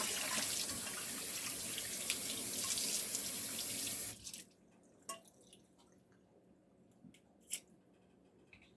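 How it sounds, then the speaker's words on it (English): Tap water runs into a sink while a stainless steel pan used for browning hamburger is washed, a steady close hiss that cuts off midway, leaving scattered drips, clinks and scrubbing sounds. "Cleaning up the stainless steel pan from where I browned the hamburger."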